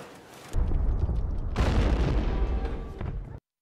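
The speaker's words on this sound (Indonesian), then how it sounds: "Suara ledakan ranjau tadi mengejutkan warga San Giusto." A landmine blast lands as a sudden deep boom, followed by a second heavier roaring burst and rumbling debris that continues loudly for about two seconds before cutting off.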